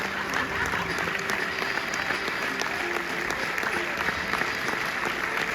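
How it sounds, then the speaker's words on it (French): Cinema audience at a film premiere screening applauds steadily, a dense even patter of many hands at moderate level, with faint voices mixed in. "On les applaudit."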